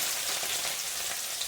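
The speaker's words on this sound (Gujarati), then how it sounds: "હવે આપણે આમાં જીરું નાખી દઈએ" Cumin seeds sizzle in hot oil in a home kitchen while paneer curry is being made, a soft, steady crackling hiss with no voices.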